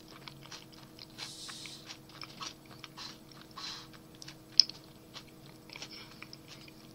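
An Atkins bar with nuts and chocolate chips is chewed up close, with quiet, irregular crunches and soft mouth noises, including one sharper bite.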